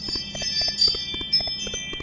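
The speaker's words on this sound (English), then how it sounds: "Excuse the bell sound in the background for my ring doorbell" A Ring doorbell chime sounds in the background, a faint series of short repeating tonal bell pings over a quiet room.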